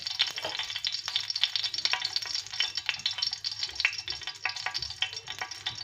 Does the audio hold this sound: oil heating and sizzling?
yes